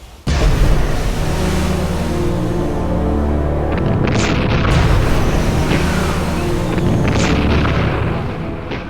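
Heavy, rumbling explosions from torpedoes striking the 72,000-ton Japanese aircraft carrier Shinano at sea, a loud sustained barrage of booms and bursts lasting several seconds with no voices.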